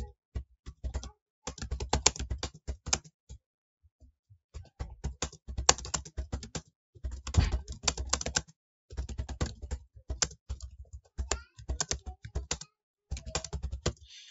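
Bursts of typing on a computer keyboard while entering Pashto text in Microsoft Word, close and clear, several quick runs of keystrokes separated by short pauses, no talking.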